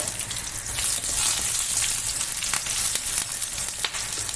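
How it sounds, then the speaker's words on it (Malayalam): Three small garlic cloves sizzle in hot oil in a pan, a steady crackling fry with bright spitting pops throughout, close and continuous with no talk. "ഇനി ഒരു ചെറുങ്ങനെ 3 തുള വെളുത്തുള്ളി"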